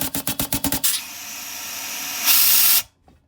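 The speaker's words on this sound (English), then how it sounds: "turn on a little bit of air, cover that hole to make sure your release valve's popping. You can hear the air" Compressed air is pushed into a resin-casting pressure pot to test its release valve. A quick train of rhythmic hissing bursts leads into a long, loud, continuous hiss that cuts off abruptly, leaving near silence.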